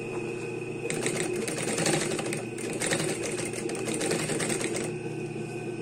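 A domestic sewing machine stitches a fabric ruffle, a close, rapid mechanical chatter in two bursts of about two seconds each, running alone over a constant motor hum.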